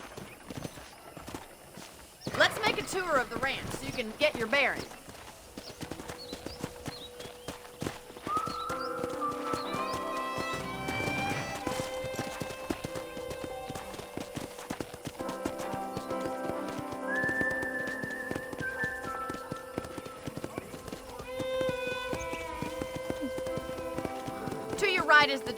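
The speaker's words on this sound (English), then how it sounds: "I picked out a fine horse for you." Horse hooves clip-clop steadily in a ranch scene from a video game, a close, rhythmic trot under a voice, with a brief neigh early on and background music joining partway.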